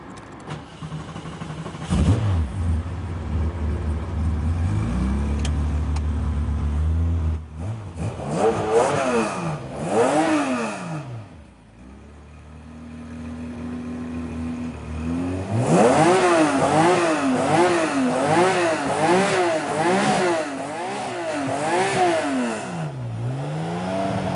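A Singer-modified Porsche 911 engine cranks and catches, then roars through repeated loud revs, rising and falling, with a brief drop to idle between bursts.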